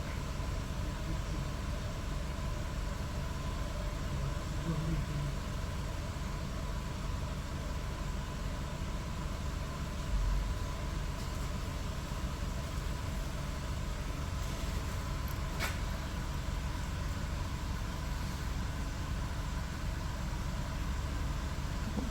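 A steady, low idle hum from a Skoda Octavia Tour 1.6 BFQ engine runs continuously with constant broadband noise, no talking, unchanging throughout.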